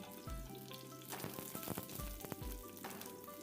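Almonds frying in hot ghee and oil, the first step of a beef kabsa, give a steady, close sizzle with dense crackling and occasional louder pops. No one speaks.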